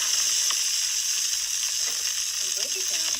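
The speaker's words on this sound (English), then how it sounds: "Now I'm going to add this package of rice." Precooked packaged rice sizzles in a pan with a little olive oil over low heat, a steady close hiss with faint scraping stirs, no talking.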